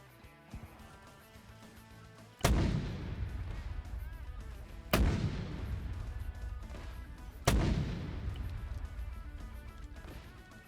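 Mortar fire in a Vietnam War video game: three loud, heavy booms land about two and a half seconds apart, each one rumbling away slowly over a low background din.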